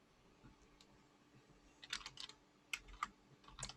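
Keystrokes on a computer keyboard tapping out code, a quiet opening stretch followed by short clustered bursts of clicks, close and fairly soft, with no talk.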